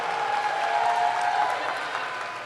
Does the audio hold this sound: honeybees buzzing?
no